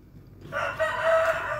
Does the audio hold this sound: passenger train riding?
no